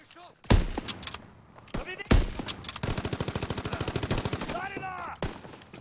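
Gunfire in the World War II shooter Call of Duty WW2: a few sharp single shots, then a fast, even burst of automatic fire lasting about two seconds. Loud and close, with a voice talking underneath.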